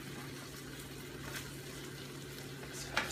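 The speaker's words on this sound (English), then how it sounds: "And then I'm also going to go ahead and add the peppers." Red and orange peppers sizzle in a hot pan of udon noodles with shrimp, giving a steady low frying hiss with a few light crackles and one brief clink near the end.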